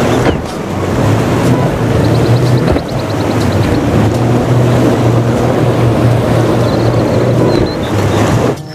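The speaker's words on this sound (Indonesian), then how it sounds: "ini speedboat." A speedboat runs loud and steady, its engine roar blended with rushing waves and heavy wind buffeting the microphone for the whole stretch.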